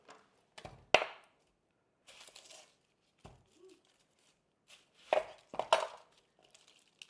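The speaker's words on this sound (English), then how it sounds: "Get my onion cut." A knife cutting through a big onion on a cutting board, a handful of sharp, irregular chops and crisp peeling crackles, close and fairly quiet, with pauses between strokes.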